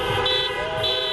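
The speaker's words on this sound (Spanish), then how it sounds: "bocinazos y un mismo grito resonando por todo el país" Car horns honking at a nationwide street protest in Argentina, two sustained blasts sounding over a dense layer of traffic and crowd noise.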